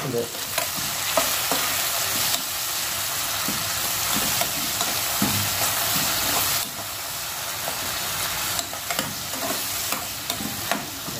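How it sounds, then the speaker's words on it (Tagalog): Garlic, onion, tomato and ginger sizzle and fry steadily in a pan for pompano stew, with occasional stirring scrapes and clinks over a continuous loud hiss. "ginigisang bawang, sibuyas at kamatis at luya"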